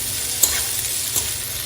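Sliced onions fry in hot oil in a pan, a steady close sizzle with a couple of soft stirring clicks.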